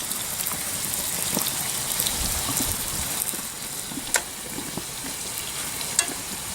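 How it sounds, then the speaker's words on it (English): Tri tip steaks sizzle in butter on a grill while being basted, a steady crackling hiss like light rain with a few sharper pops and spits standing out, fairly quiet and with no voices. "Basting these steaks with the butter. Still sizzling pretty good."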